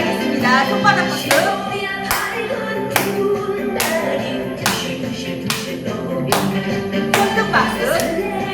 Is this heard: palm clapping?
yes